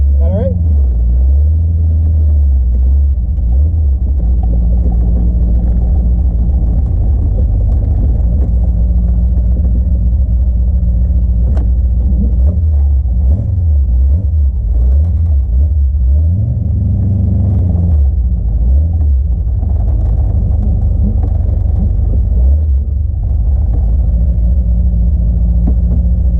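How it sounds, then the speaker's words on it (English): Cars roll into a British Car Day show in a park in Lindsay, Ontario, with a steady low engine and road rumble from nearby vehicles, and people talking over it throughout. "Cars are streaming in."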